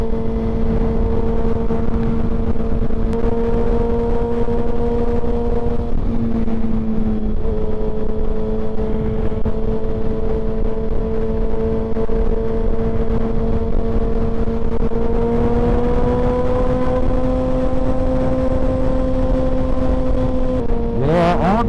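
A motorcycle rides along a road on a cold 45-degree morning, its engine droning steadily close up with a smooth, sustained tone that dips and rises as speed shifts, ending in a brief rev.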